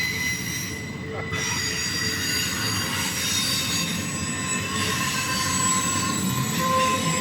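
Norfolk Southern freight train rolls past close by, its wheels squealing in sustained, piercing tones over a continuous rumble of rail cars.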